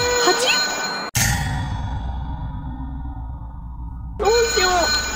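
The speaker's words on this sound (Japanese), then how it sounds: "電話鳴り始めた" A phone-booth telephone rings with a short electronic tone, then cuts out and rings again a few seconds later, heard close and loud over a steady low background hum.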